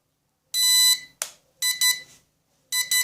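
Electronic beeps from a Koome K300 quadcopter remote: one long tone, a short click, then two pairs of quick beeps in a clean, quiet background.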